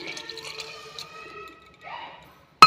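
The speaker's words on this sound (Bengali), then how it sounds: "এর মধ্যে আমি এবার জল দিয়ে দেবো এটার মধ্যে, কড়াই ধোয়া জলটা এক বাটি" Water from a bowl of pan-rinsing water splashes and trickles into a cooking pot of vegetarian khichuri made with Gobindobhog rice, a soft liquid pour under light kitchen noise, ending with a sharp clink.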